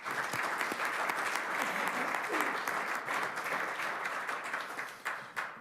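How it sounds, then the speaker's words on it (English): Steady, fairly quiet applause from people gathered at a city council meeting in St. Catharines, continuous clapping for several seconds that thins out toward the end. "So one more time, a round of applause for Ms."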